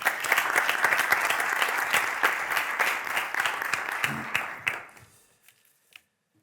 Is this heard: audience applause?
yes